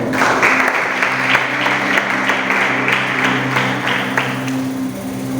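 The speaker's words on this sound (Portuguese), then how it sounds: "A salva de palmas." A church congregation claps together in sustained applause, a thick, even roar of many hands at close range, with a faint steady hum running beneath it.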